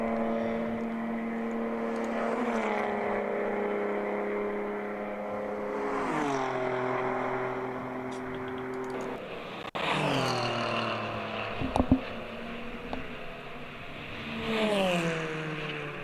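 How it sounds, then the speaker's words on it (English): Endurance race cars in the ChampCar 14-hour enduro roar through turn 15, several cars passing one after another with engines whining up and down through shifts, rising loud as each goes by then fading. "Here come the cars through 15"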